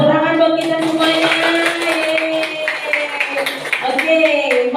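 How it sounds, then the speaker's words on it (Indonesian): A group claps together at a school gathering, light scattered clapping in the second half partly masked by a speaking voice that carries through. "Oke, tepuk tangan dong kita semuanya."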